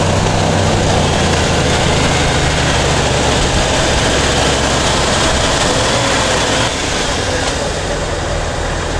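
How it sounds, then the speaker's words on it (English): A car engine held at about 2500 RPM during a charging-system load test, a constant loud broadband roar that stays even for the whole stretch, slightly easing near the end, with no speech. "Increase the RPM to 2500 and keep it for 5 seconds."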